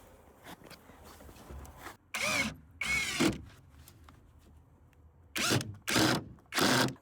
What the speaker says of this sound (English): You are screwing 2 screws through there into this.